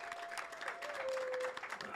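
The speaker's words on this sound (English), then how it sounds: "Let's give a little round of applause for all our good people here at Nanda's." A small crowd claps at a Tex-Mex restaurant during a live coaches show, brief uneven applause at moderate volume with a steady tone running beneath it.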